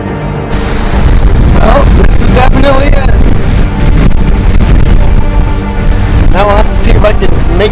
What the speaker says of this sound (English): Holy cow, windy. I don't know if you can hear me, but it's so windy.